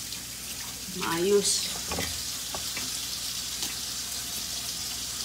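Running water from a tap while saba bananas are washed in a kitchen, a steady hissing flow with brief splashes and handling sounds, and someone speaking briefly over it.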